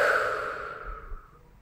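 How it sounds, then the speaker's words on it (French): A single deep exhale during a guided EFT tapping relaxation exercise, a soft breathy sigh that starts fairly loud and close, then fades out gradually into quiet. "Et on va s'arrêter, on va respirer."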